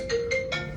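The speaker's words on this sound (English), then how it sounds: "oh, that's my phone." Phone ringtone going off indoors: a short melodic run of bright electronic notes, close and fairly loud, with no talk during it.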